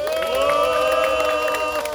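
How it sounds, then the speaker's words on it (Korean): A crowd applauds and cheers at the close of a Seoul education superintendent candidate's press conference. The applause is loud and steady throughout, with a sustained tonal ringing layered over it. "큰 박수와 함께 마치도록 하겠습니다."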